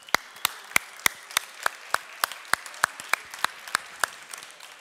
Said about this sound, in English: I just want to give a big round of applause to the previous speakers.